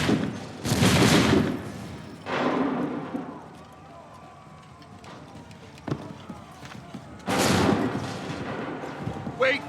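Musket volleys in Assassin's Creed 3, crashing ragged bursts of massed fire, one near the start, another shortly after and a third later, loud and close, with hoof-like rumbling and shouted commands between.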